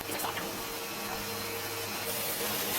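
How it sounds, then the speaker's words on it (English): A vacuum cleaner drawing dust out of an opened PS3 Fat console gives a loud, continuous close-up hissing roar that barely changes across the short span, with no clear talk over it. "We're gonna have to vacuum this like everywhere."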